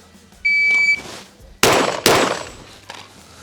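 Two sharp pistol shots go off about half a second apart at a shooting range, close and loud. A brief electronic beep sounds just before them.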